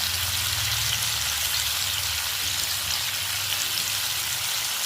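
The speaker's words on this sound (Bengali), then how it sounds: "পনিরটাকে একটু লবণ হলুদ মাখিয়ে আমি পনিরটা একটু ভেজে নিচ্ছি হালকা হালকা করে।" Paneer rubbed with salt and turmeric fries lightly in a pan, giving a steady, dense sizzle with a hiss that holds evenly throughout, close by, with no talking.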